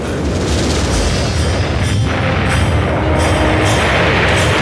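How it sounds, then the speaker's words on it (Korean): A light gas gun fires as a methane explosion drives a piston down a long tube, producing a loud, sustained, rumbling roar that fills the whole span without pause. "메탄가스의 폭발로 피스톤이 긴 관속으로 발사되면서 제곱인치당 3만 파운드"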